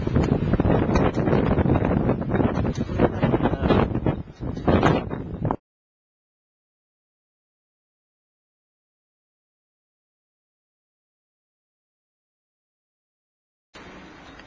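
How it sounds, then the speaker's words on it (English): Strong gale blowing around an AIR 403 wind generator, loud buffeting wind noise for about five seconds, then sudden silence before a short burst of wind returns at the end. "Blowing a gale."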